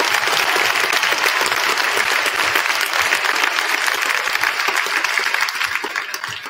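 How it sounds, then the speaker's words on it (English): A crowd applauds steadily and loudly at a Veterans Day school assembly, dense clapping that fills the whole stretch and tapers slightly at the end. "Please give these knights a round of applause."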